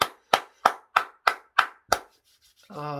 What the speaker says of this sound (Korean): 주님께 영광의 박수 합시다.